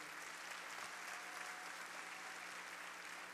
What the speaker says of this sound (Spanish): Vamos a darle un fuerte aplauso al Señor por ello.